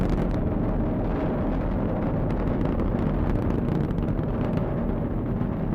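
A SpaceX rocket carrying a Dragon spacecraft roars in flight after launch, a dense, continuous low rumble with wind buffeting that stays loud and steady throughout, with no voices.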